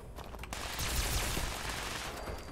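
Gunfire aimed at super mutants in Fallout 76 comes as a quick burst of shots followed by a rumbling impact, moderately loud and close, with no talking.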